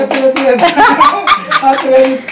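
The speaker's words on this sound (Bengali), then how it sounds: "কেক কাটো, হাততালি দাও, হ্যাপি অ্যানিভার্সারি।" Hand clapping at a 25th wedding anniversary cake cutting at home, several quick claps mixed with laughter and close, lively talking and voices throughout.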